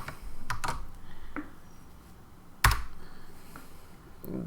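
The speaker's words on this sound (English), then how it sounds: "that's not how you type commands" Computer keys clack in short irregular bursts at close range, with a few isolated taps and one sharp louder strike, set against a quiet room.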